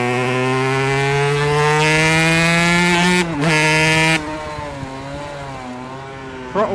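A Langen two-stroke cafe racer motorcycle engine revs loud and close on a test ride, its buzzing pitch climbing steadily, briefly cutting out and surging, then dropping to a lower, wavering drone as the throttle eases.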